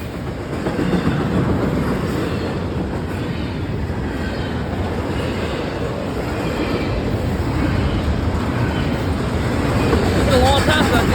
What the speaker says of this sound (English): It's been a long time since I saw a train at this crossing.